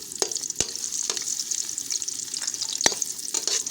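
A chopped onion sizzles in a cup of hot ghee in a kadai over a flame, a steady bright crackle broken by a few sharp clicks of stirring.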